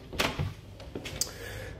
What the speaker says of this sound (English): so I open this door here